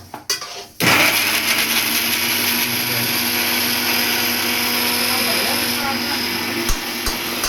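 Fenugreek seeds whirring in an electric kitchen grinder, a loud steady high-pitched motor drone that starts abruptly after a few quiet knocks and runs without pause, with a voice faintly present.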